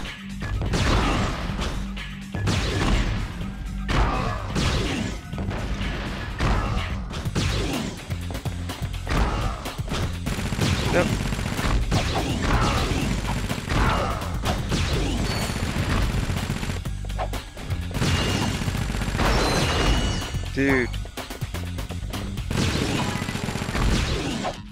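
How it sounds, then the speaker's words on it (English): Rapid weapon fire from the Ratchet & Clank video game, with dense bursts of shots, crashes and impacts mixed with game music and effects, loud and continuous for the whole stretch. "So many shots with this."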